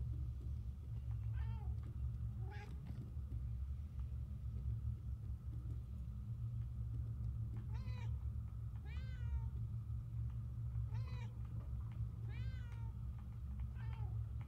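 A video-game cat in Murdered: Soul Suspect meows about eight times at uneven intervals, clear and moderately close, over a constant low rumble of ambient engine-like drone, with no talking.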